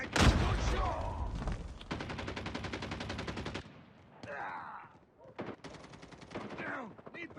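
Rapid bursts of video game gunfire, automatic volleys crackling in dense rhythmic runs with brief pauses between them, loud and close.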